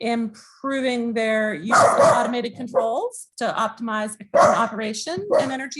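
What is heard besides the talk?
dog barking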